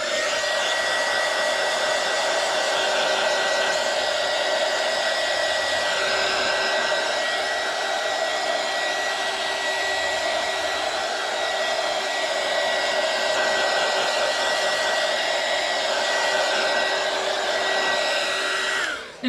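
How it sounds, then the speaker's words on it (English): A heat gun runs nonstop at close range over epoxy resin coasters to pop surface bubbles, giving a loud, steady blowing whine with a constant tone, no voices, then cutting off at the very end. "So I'm just going to take the heat gun again."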